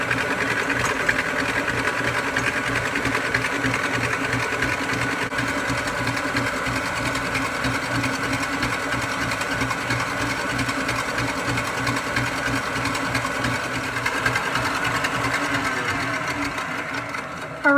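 An electric mixer whips meringue toward soft peaks at medium-high speed, giving a steady, loud motor whir with a fine rhythmic rattle that runs unbroken for almost eighteen seconds.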